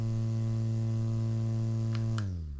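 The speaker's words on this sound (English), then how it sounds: "have the fan going. I wanted to kind of let you hear how loud it is." A small portable travel fan on its second speed whirs steadily with a constant hum, close by, then winds down near the end as it switches off.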